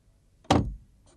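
A single heavy bang on a door, one sharp loud impact with a short low rumble after it, standing alone with near silence around it.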